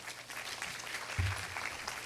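An audience claps after a lecture at a university forum, a continuous patter of applause from a moderately sized crowd in a hall, steady and somewhat distant, with one louder thump partway through.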